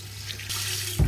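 A bathroom tap runs into a sink to rinse after shaving with a Parker safety razor, a steady close hiss of water that swells into a louder splash at the end.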